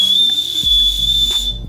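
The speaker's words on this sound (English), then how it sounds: "and a whistle." A loud, shrill whistle from a survival kit bracelet blown in one long continuous blast of about a second and a half, close and steady, then cutting off abruptly with no talk.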